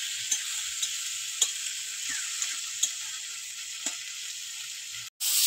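Koi fish curry pieces being stir-fried with salt and turmeric, a steady fizzing sizzle with several light taps of a spatula against the pan, heard alone before a brief cutoff near the end.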